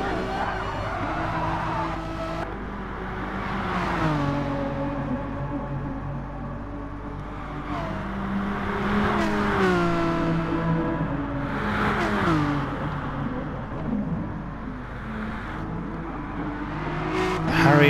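Racing cars including a BMW lap Dragon Trail in a racing game, with engines rising and falling through the gears in repeated sweeps and a constant close, loud drone.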